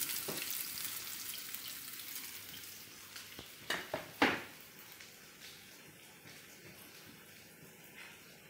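Ginger sautés in a hot pan with a steady, close sizzle, broken by a few clattering stirs a little past the midpoint, with no voices.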